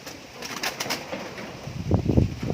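Pigeons coo in a breeder's loft in San Nicolas, Batangas, with soft throaty calls early on and a louder run of repeated coos near the end, close and clear with no talk.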